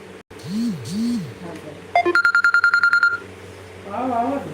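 A rapid run of about a dozen electronic tones from a ringing phone, like phone key beeps, sounds between bits of nearby talk.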